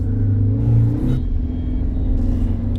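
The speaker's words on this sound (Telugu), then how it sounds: "మొత్తం ట్రాఫిక్ జామ్ అయిపోయింది అవతల సైడ్ కూడా" Cars idle and creep along a jammed highway with heavy traffic in both directions, a loud close engine rumble with a brief rev near the start, then a steady low drone without talk.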